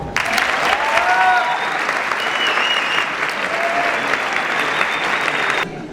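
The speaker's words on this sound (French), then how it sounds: "on peut applaudir très fort" Loud, sustained applause from a crowd, dense clapping that holds steady for several seconds before stopping abruptly.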